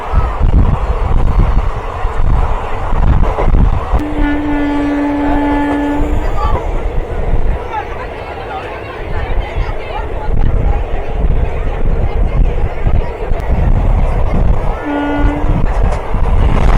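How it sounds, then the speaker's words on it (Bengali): A Howrah-bound train passes alongside a moving special train from Santragachi to Digha, its horn sounding twice in long loud blasts over steady rumbling rail and wheel noise, with a voice talking throughout. "এই একটা হাওড়া যাওয়ার ট্রেন কিন্তু ক্রস করছে আমাদের ট্রেনের পাশ।"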